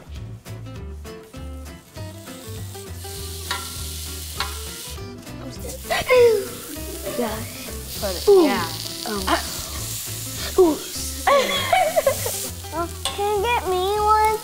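Meat sizzling on a Korean BBQ grill, a steady frying hiss running beneath lively children's chatter, with clinks and tongs scraping near the grill.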